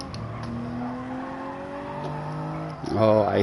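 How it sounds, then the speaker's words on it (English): Racing cars skidding in Gran Turismo 7, a sustained engine whine with sliding tire squeal in the background, steady and moderately loud, ending with a brief rougher burst as a car scrambles through a corner. "I hear skidding going on in the background"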